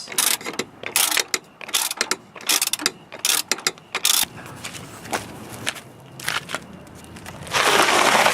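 A hand ratchet clicks in quick rapid bursts while undoing nuts on a Honda B series transmission mount, close and sharp with brief pauses between runs, followed by a rustling scrape.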